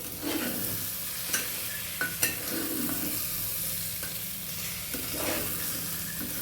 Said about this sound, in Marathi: छान तांदूळ पण परतून द्यायचे तेलामध्ये आपल्याला